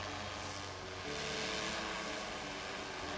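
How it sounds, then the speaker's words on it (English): A UAV-Nano drone descends toward the ground with its landing legs lowered, its rotors making a steady broadband whir that fills the clip, close and moderately loud, with no talk. "and then drop the drone down to the ground."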